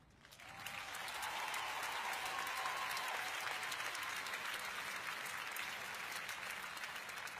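An audience breaks into applause and cheering, the clapping rising quickly from near silence and then holding as a dense, sustained wash for several seconds.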